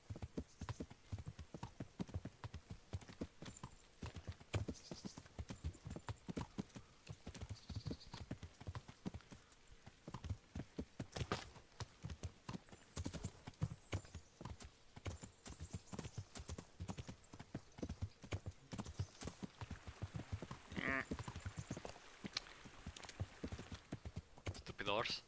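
Steady, rhythmic clip-clop of horse hooves trotting in the video game Kingdom Come: Deliverance, close and continuous, with a brief whinny-like sound near the end.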